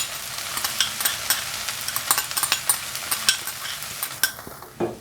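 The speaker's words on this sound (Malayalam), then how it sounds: "ചോറും കൂടെ ഈ സവോള ഇഞ്ചി പീസൊക്കെ വഴറ്റിയതിലോട്ട് ഇടുകയാണ്" Cooked rice being stirred into sautéed onion, ginger and peas in a hot pan, rhythmic scraping and tossing strokes over a continuous sizzle, close and fairly loud with no talking.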